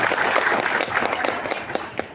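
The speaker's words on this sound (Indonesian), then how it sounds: "Tepuk tangan buat APK kita ya." Brief, scattered applause from a group of people, several claps rising into a loose patter before fading.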